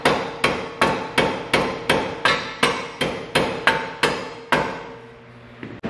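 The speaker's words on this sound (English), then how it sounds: "I did switch over to a hammer and it took it right out, both sides." Steel hammer blows ring out in a steady, rapid series of about a dozen loud, close metallic strikes while a part is knocked free during a clutch install on a Honda Civic Si, ending with a brief pause and clatter.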